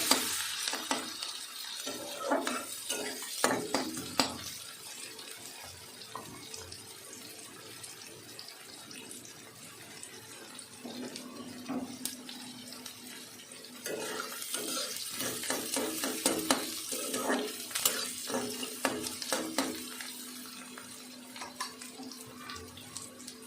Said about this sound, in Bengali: তারপরে পেঁয়াজগুলো দিয়ে দেবো। আমি একটা মিডিয়াম সাইজের পেঁয়াজ নিয়েছি।